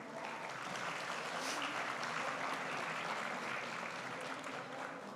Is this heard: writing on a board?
no